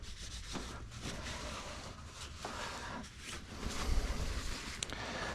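A rag wipes and rubs clean during an oil change on a Z31 Nissan 300ZX, giving soft, continuous scrubbing and rubbing noises up close with small bumps and one short clink near the end.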